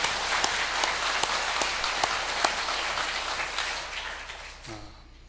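A church congregation gives a round of thanks and encouragement applause, many hands clapping briskly in a dense burst that slowly thins out and stops near the end.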